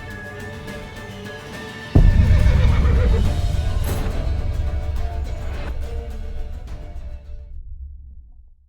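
A loud horse whinny in the video game The Witcher 3: Wild Hunt bursts out suddenly and trails off slowly over several seconds, with no talking.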